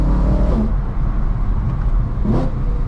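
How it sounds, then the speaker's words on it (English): A loud 2010 BMW E92 M3 engine, modified, roars steadily up close, with two quick rising blips around each downshift. "Listen to the downshifts, crazy."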